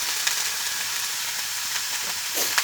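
Cauliflower stalks fry in a pan with salt, giving a steady, bright sizzle that holds throughout with a few soft scrapes of stirring near the end.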